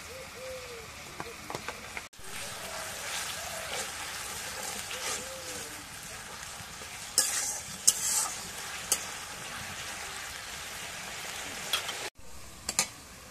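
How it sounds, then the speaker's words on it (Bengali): Ground cumin, garlic and onion pastes with salt sauté in a pan, making a low continuous sizzle with spatula scrapes and a few sharp clinks near the end, with no talk over it. "এখন মশলা দিয়ে কষানো হয়ে গেছে"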